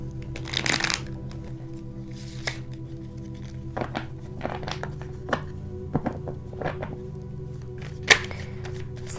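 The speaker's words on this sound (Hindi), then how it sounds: "चलिए सबसे पहले शफल कर लेते" Tarot cards are shuffled close up, giving a run of dry riffling and soft slaps with occasional sharper taps and thumps over a quiet background.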